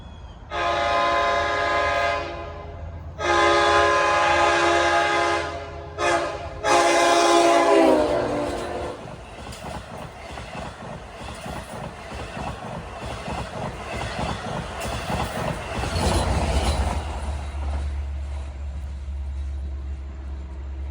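A Long Island Rail Road train led by DM30AC locomotive 517 sounds its horn in long, loud blasts, then rumbles and clatters past nearby on the Montauk Branch, with a deep engine drone building toward the end.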